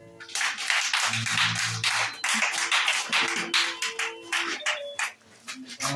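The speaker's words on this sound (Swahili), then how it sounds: "Makofi." A church congregation applauds on New Year's Day, a burst of many hands clapping close and loud in dense irregular waves for several seconds, tapering near the end, with faint tonal background sounds underneath.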